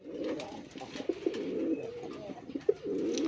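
A pair of Raj Golla pigeons, a red male and a brick-coloured female, coo repeatedly in soft, close throaty phrases over a steady background murmur.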